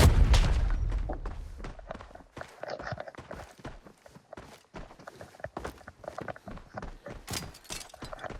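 A grenade blast in the shooter game Arena Breakout opens with a loud, low boom that decays over a couple of seconds, followed by quieter scuffling footsteps and clatter during play.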